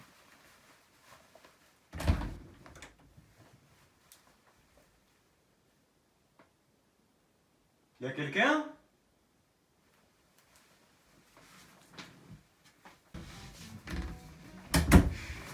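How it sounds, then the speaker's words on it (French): Kitchen French windows slam shut in a quiet house: two separate heavy thuds several seconds apart amid near silence, followed by rustling and a voice near the end. "c'est les portes-fenêtres de la cuisine, elles ont claqué"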